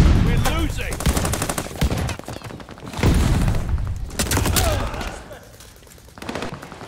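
Rapid machine pistol fire in the video game Call of Duty Vanguard, dense bursts of close, punchy shots with distant booms and explosions around them.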